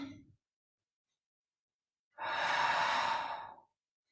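A slow, deliberate breath during a Pilates exercise: a faint exhale trailing off at first, a pause of silence, then a long, full breath lasting over a second, close and clear with no other sound.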